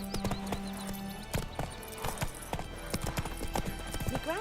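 A horse's hooves clip-clop at a steady, near pace in The Witcher 3 video game, with a short whinny among the rhythmic footfalls.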